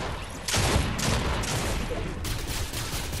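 Rapid blaster rifle fire from an E-11 in a video game, a dense loud volley of repeated shots running almost continuously with a brief quieter lead-in.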